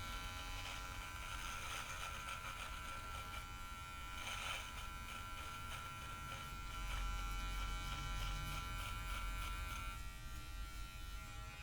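An electric trimmer buzzes steadily while cutting a man's beard at home, a close, continuous humming drone with slight rises in pitch and loudness as it moves through the hair, with no talking.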